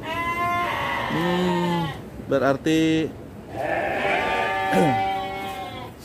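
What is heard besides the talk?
goats bleating in a goat pen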